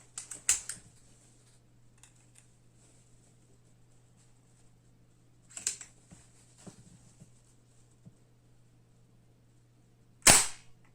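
Shots from a CP2 gun fitted with a suppressor: three separate sharp cracks spaced several seconds apart, the last one loudest, close by with faint clicks between them.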